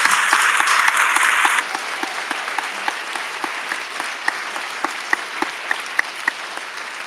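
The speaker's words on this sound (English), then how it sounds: "let's have one more round of applause" An audience at a talk applauds, a loud burst of clapping that quickly thins into scattered, fading individual claps.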